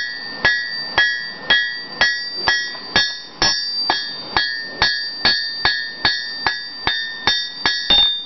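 Blacksmith's hammer striking hot steel on an anvil while shaping a leaf ornament, about sixteen sharp ringing metallic blows at a steady, even rhythm, close and loud with bright ringing after each hit.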